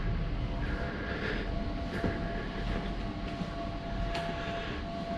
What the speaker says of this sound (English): So there must be a train coming soon